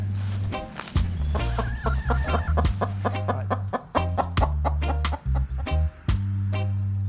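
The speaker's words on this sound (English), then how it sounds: "let's check in with the chickens." Chickens (hens) cluck and chatter close by in a garden in a busy, irregular flurry of short calls, with a low hum running beneath.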